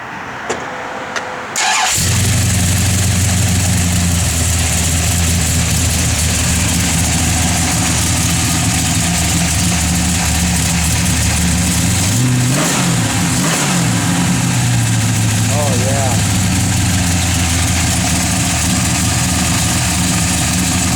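A 1967 Plymouth GTX with a pump-gas V8 fires up, settles into a loud lumpy idle and is blipped through a couple of revs nearby, with no talking.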